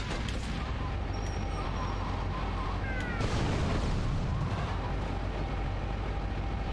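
Rumbling, crashing game noise from an army tank in GTA: Liberty City Stories, a dense continuous low roar with heavy impacts and blasts, loud and steady throughout.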